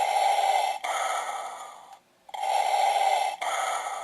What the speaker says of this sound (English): Vader does his little breathing.